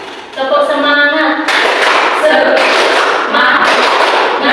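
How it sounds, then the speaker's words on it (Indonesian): Standing students in a classroom do the 'tepuk semangat' rhythmic clapping, with loud, close group claps in patterned bursts over chanting and shouting voices. "Oke, dicontohkan ya sekarang. Tepuk semangat."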